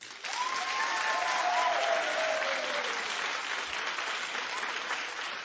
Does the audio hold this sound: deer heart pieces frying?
no